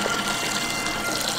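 Water gushing from a tap into a bucket at a homestead farmhouse, a steady full-band rushing flow, loud and continuous with no talking.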